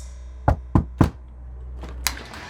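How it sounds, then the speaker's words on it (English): Three firm knocks on a wooden door in quick succession, close and distinct against a quiet background, followed by a faint softer tap about a second later. "Ava went across the road and knocked on his door."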